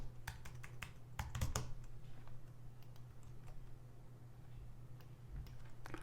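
Quiet typing on a computer keyboard while writing a note, a run of sharp close key clicks that thins into sparser taps over several seconds, with no talking.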